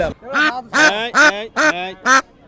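Fat village ducks quack loudly and close by at a rural market, six harsh calls in a quick uneven series with brief pauses between them.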